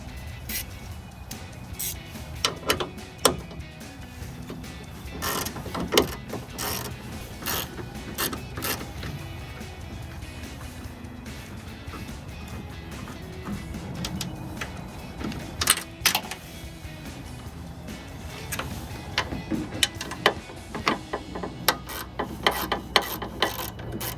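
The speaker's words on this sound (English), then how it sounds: "we're going to take off this bolt and then this bottom bolt right here" Ratchet wrench clicks and metal creaks come from removing the taillight bolts on a 2016-2023 Toyota Tacoma, in short repeated bursts of ticking with pauses, fairly quiet and close.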